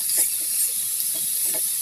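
Shish tawook chicken sizzles in a very hot pan, making a steady, close hiss with no talking over it.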